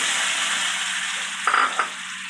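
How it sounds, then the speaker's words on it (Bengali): Pre-boiled matar dal tipped into a pan of hot tempering with dried red chilli, giving a steady close sizzle and fry that flares briefly as the lentils hit the oil. "এবার আমি ডালটা আগে থেকে সেদ্ধ করা মটর ডালটা আমি দিয়ে দিলাম"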